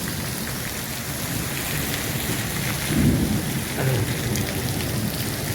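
A stormy downpour with hail in Bagasara sounds as a steady, dense hiss of rain, with low thunder rumbles swelling near the middle.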